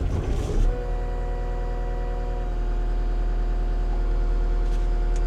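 A CAT 265 skid steer loader's engine cranks and catches in a brief loud burst, then settles into a steady, close, mid-pitched idle with a continuous mechanical hum and no talk.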